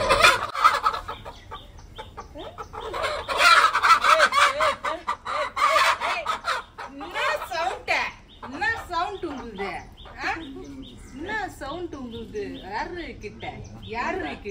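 Country chickens cluck and squawk close by in a village yard, with a burst of loud flapping and noisy calling followed by repeated clucks, while people talk over them.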